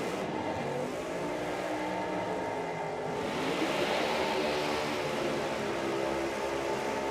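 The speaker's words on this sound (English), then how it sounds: "The VB Commodore that is down there for Jeremy Martin, still with steel roof and quarters." A Pro Mod VB Commodore drag car with steel roof and quarters, built from a four-door family sedan, runs at a nitro drag racing meet, its engine a loud continuous roar that swells partway through.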